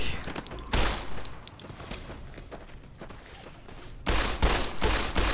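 Gunfire in Fallout: New Vegas comes as bursts of sharp shots at the start, around the one-second mark and again near the end, with footstep-like clatter between them and no voices.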